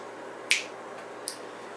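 Two crisp finger snaps, the first sharp and clear, the second quieter about three-quarters of a second later, over a faint steady room hiss with no talking.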